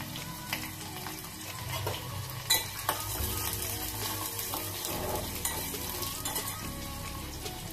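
Onion, green chillies, dried red chillies and curry leaves fry in hot oil after mustard seeds have spluttered, giving a steady close sizzle with a few sharp spoon clinks and stirring scrapes against the pan.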